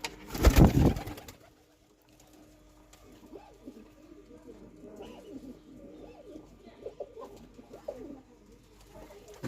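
Soft, low pigeon coos repeat under quiet background noise, following a brief loud thump at the start.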